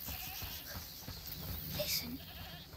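A goat bleats a few times, close and thin, in the video game A Plague Tale Requiem, set against a steady ambient background with no talk.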